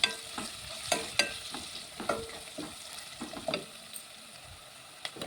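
A spoon stirring moong dal paste with curry leaves in a pan, giving a run of irregular scraping clinks and soft sizzling bursts, close and moderately loud, with no talk.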